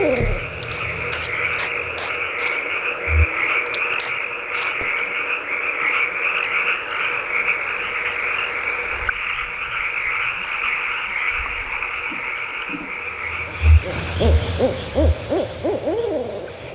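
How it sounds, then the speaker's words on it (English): In the video game Kentucky Route Zero, owls hoot in a steady repeating rhythm over a dense chorus of croaking frogs and chirping crickets at night, with a few low thumps near the end. "the sound of the frogs and the owls and the crickets"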